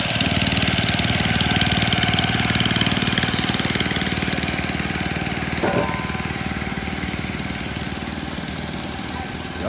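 Long-tail boat engine on a Vietnamese shrimp-tail boat runs steadily at close range, a loud continuous droning with rapid knocking pulses and a brief dip in pitch midway.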